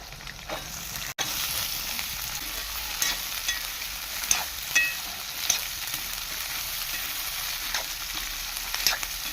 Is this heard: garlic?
yes